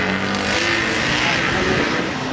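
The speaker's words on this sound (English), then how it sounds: "what a motorcycle this is" A loud racing engine from a KTM racing motorcycle roars past at high revs at the Goodwood Festival of Speed 2023, a continuous snarling drone that fills the whole moment.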